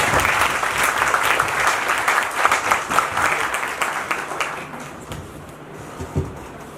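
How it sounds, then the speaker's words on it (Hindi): An audience at a presentation on Chandrayaan 2 breaks into loud, sustained applause that tapers off toward the end, with a few scattered claps lingering. "एक बार जोरदार तालियों से।"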